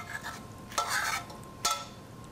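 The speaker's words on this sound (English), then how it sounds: "So just pour it into a pan." Macaroni and cheese being scooped and poured from a pot into a large glass baking dish, with two soft, wet scraping slides of utensil against cookware in an otherwise quiet kitchen.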